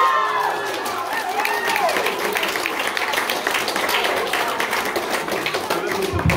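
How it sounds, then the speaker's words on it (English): Audience applause at a school prizegiving (Ōpoutere Kura, 2021), a steady wash of clapping hands filling the hall with some cheering mixed in, loud and continuous throughout. "Give them a big round of applause."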